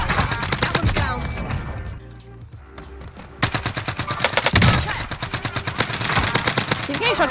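Rapid bursts of automatic gunfire in a first-person shooter video game, loud repeated shots with a short lull before firing resumes, with a player talking at times.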